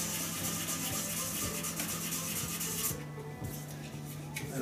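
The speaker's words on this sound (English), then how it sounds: "but I'm sanding it to get it out" An epoxy resin shaving brush handle is sanded by hand in circular motions, producing a continuous close-up rubbing rasp with a steady rhythmic pattern and no voice.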